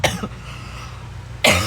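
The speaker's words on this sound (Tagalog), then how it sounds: "Parang mamamatay naman ako sa pagka-ubo-ubo ko." A woman coughs hard twice at the start, followed by a quiet pause with low background hum, then another loud, harsh cough bursts in near the end, close to the microphone.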